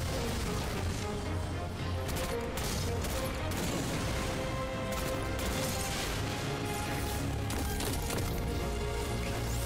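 Dense gunfire from weapons in the video game Destiny 2, a continuous loud barrage of overlapping shots and impacts with no break, no voices over it.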